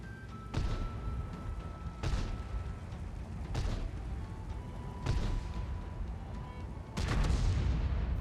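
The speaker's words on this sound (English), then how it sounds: "Another shot from the artillery" Artillery in the tank game World of Tanks fires in a steady series of five heavy booms roughly every one and a half seconds, each a sharp broadband blast over a constant low engine rumble.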